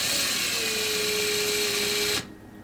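A small bit held in a pin vise drills into a part for a model ship, making a steady, thin high whine for about two seconds before it cuts off.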